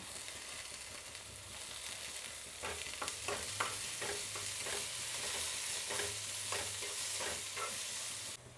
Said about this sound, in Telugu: ఇప్పుడు ఎర్రగడ్డలు వేసుకుందాం, అలాగే పచ్చిమిరపకాయలు, ఇప్పుడు కొత్తిమీర కరివేపాకు.